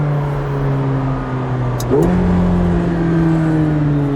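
A white 2018 McLaren 720S in manual mode accelerates under paddle shifts, its engine droning steadily from inside the cabin, with a quick upshift partway through as the revs drop and then climb again.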